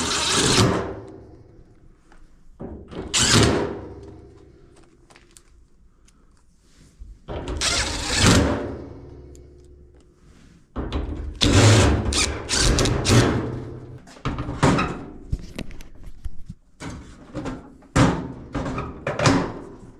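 Screws are driven into a Samsung dryer panel during reassembly after a heat element repair. Close, repeated bursts of a driver tool alternate with clunks and handling knocks at an uneven pace.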